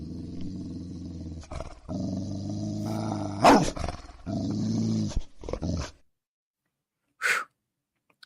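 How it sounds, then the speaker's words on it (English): A dog growl sound effect, with long, deep rumbling growls broken by short pauses, loud and close, then silence and one brief final snarl. "the first doghouse growl of the week goes to"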